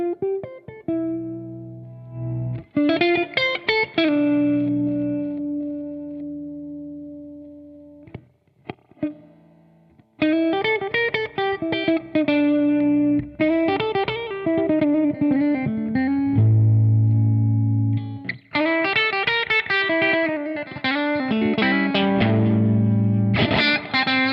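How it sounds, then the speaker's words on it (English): A Danelectro '56 baritone guitar with bottle headstock plays through a Meteor distortion pedal set to boost, giving bright, slightly driven chords and single notes in short phrases with pauses between, close and clear. "That's a meteor distortion"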